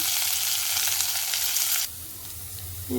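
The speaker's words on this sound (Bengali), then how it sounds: "করলাটা আগে ভেজবো।" Bitter gourd frying in a hot wok gives a loud, steady sizzle that cuts off abruptly partway through, leaving a quiet hum and a faint clink near the end.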